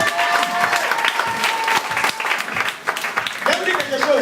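A church congregation applauds to acclaim the Lord, steady dense clapping lasting throughout, with voices and a tonal sound mixed in.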